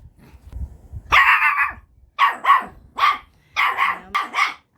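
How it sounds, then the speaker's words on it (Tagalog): A dog barks close by in a quick series of loud, sharp barks, one drawn-out bark followed by several shorter bursts with brief gaps, and no talking over them. "ang ingay po ng aking aso"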